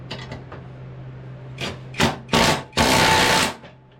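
A lawn mower blade being fitted and tightened on a salvaged junk mower, with a few faint clicks and then three loud, close bursts of ratcheting mechanical whirring, the last about a second long, over a steady low hum.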